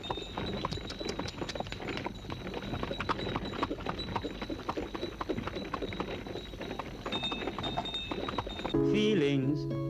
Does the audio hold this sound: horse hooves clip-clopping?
yes